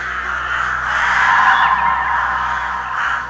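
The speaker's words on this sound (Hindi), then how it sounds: "पेड़ के डाल के ऊपर बैठा हुआ जितने कौवे थे झुंड बनाकर जोरों से आसमान में गोल गोल घूमने लगे।" A flock of crows caws loudly and continuously overhead, their harsh calls overlapping in a dense, steady chorus that swells in the middle and carries on for several seconds.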